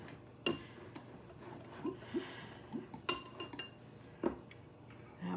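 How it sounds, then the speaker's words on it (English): A whisk clinks against a bowl while cornstarch is stirred into fruit juice for a strawberry pie filling, a few soft, close metallic taps and scrapes over a quiet kitchen background, no talking. "I'm gonna add the cornstarch that I have measured out. And I'm just gonna whisk this in"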